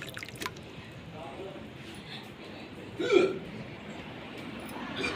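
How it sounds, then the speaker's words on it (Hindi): A person hiccups in a quiet indoor room, with a single short hiccup standing out around the middle against faint background noise. "जल्दी जल्दी खाते हैं तो खाना अटक जाता है, तो फिर हिचकियाँ आने लग जाती हैं।"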